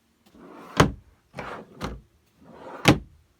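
Drawers in a Lunar Ultima berth caravan opened and shut four times, each a short sliding rumble ending in a sharp knock, close and alone with quiet gaps between.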